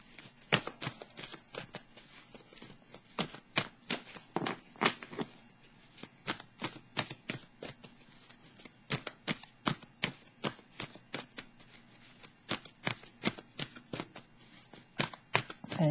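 A deck of tarot cards being shuffled and cut, a steady run of crisp riffling snaps and slaps repeating close by throughout, with no voices.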